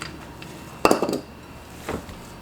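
Ingredients for Italian meatballs being mixed in a bowl, heard as a quick cluster of clinks and scrapes of a utensil against the bowl, followed by a softer knock a moment later, close by and without talk.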